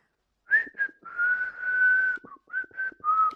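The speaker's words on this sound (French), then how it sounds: "Je siffle." A person whistling a short melodic phrase of several clear, sustained notes broken by brief pauses, close and alone against silence.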